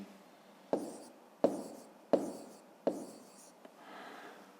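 Pen or chalk writing numbers by hand while solving a fifth-grade maths division exercise: four distinct scratchy strokes at a steady rhythm, close and fairly quiet, followed by a softer rubbing stroke, with no talking.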